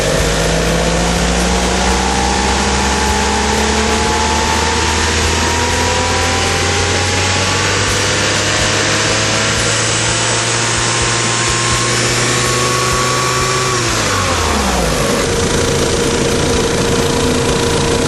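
GM Vectra 2.0L 8V engine revving steadily upward under gradual throttle, loud and close, its pitch climbing for about fourteen seconds before the revs drop back down.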